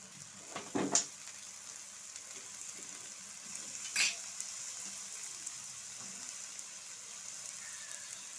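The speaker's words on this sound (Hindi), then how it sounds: "अब हम हरी प्याज डालेंगे।" Green onions stir-frying in a pan for Singaporean rice give a faint, steady sizzle, with two brief louder scrapes of stirring near the start.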